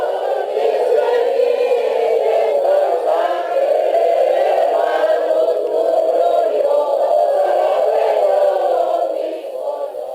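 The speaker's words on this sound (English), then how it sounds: "the crowd released its emotions, chanting Viva Somoza and singing the anthem of Nicaragua's Liberal Party" A large funeral crowd chants and sings together in a steady, massed wave of voices honoring Somoza, the rhythmic group singing continuing loudly for several seconds before easing slightly at the end.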